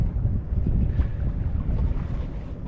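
Wind gusts rumble low and unevenly across a sailboat off Greening Island near Mount Desert Island, Maine, with buffeting noise on the microphone and no voices.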